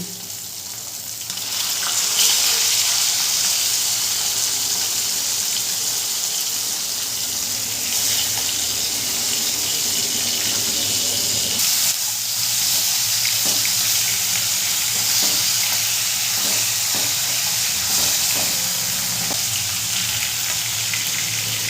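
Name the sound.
rohu fish frying in a pan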